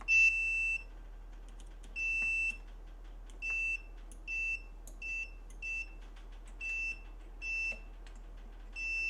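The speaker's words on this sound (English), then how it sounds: "you should hear my multimeter beep indicating continuity" A series of short, clear electronic beeps from a multimeter, about ten in an irregular rhythm, close and fairly loud over a quiet background hum.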